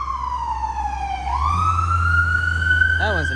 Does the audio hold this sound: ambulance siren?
yes